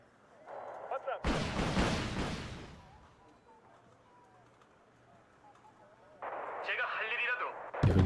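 Artillery fires in the video game Wargame: Red Dragon, in a Second Korean War 1992 campaign battle: one loud, close blast booms and rolls away over about two seconds, then a sharp hit lands at the very end over a quieter backdrop.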